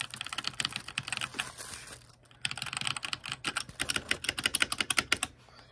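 Typing on a HyperX Alloy Origins mechanical keyboard, rapid clattering keystrokes in bursts with a brief pause midway, close and moderately quiet.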